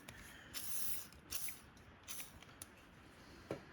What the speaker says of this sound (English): I'm just gonna spray her down a little bit